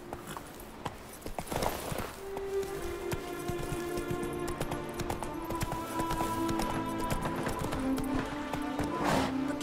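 A horse gallops in The Witcher 3, its rhythmic hoofbeats running steadily throughout under sustained game music tones, with a brief whinny-like sound and occasional louder thumps.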